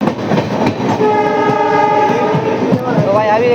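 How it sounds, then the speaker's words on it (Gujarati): A WDP4B diesel locomotive hauling train 19203 toward Veraval junction rumbles steadily at loud volume, with a sustained horn blast over the running noise and faint voices in the background. "ડીઝલ લોકોમોટિવ જે છે શું ચાલે છે, શું હમિંગ કરે છે"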